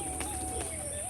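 Pigeons at a loft, soft cooing and brief chirps at close range over a constant background hum.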